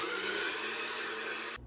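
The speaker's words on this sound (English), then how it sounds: "blend this up until it's as smooth as it can be." Countertop blender running steadily, blending dates, apple juice and maple syrup into a smooth mixture; a dense, loud whir holds throughout and cuts off abruptly near the end.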